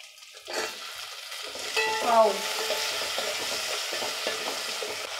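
Tomatoes and curry leaves sizzle in a hot pan for a Nellore-style dry fish curry, a steady close frying hiss that swells briefly as the tomatoes go in, with no talking.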